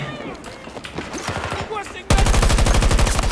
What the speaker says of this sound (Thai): เนี่ยเห็นไหมยิงไม่กี่ทีก็ตายแล้ว